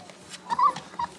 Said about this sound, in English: Puppies, hey. I know you want out too.